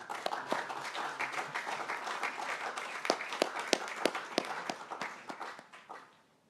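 Warm applause from an audience at a school assembly congratulating student Harry Coventry, steady clapping of many hands with a few sharper claps, fading out at the end.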